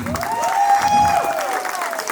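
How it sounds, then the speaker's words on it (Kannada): An audience at a Kannada Rajyotsava celebration claps loudly for a girls' dance performance. The applause is a dense, sustained roar of many hands under a lingering tonal sound, with faint cheering in the crowd. "ಜೋರಾದ ಚಪ್ಪಾಳೆ ಕೊಡಬೇಕು ಇವರಿಗೆ"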